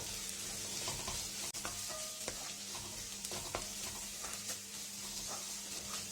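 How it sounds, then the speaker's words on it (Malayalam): Onion masala with a little garam masala powder being sautéed in a pan for a bird's eye chilli chicken peralan: a steady low sizzle with scattered spoon scrapes and taps, close and continuous, with no talking. "അത് നന്നായിട്ട് സോട്ട് ചെയ്തെടുക്കുക"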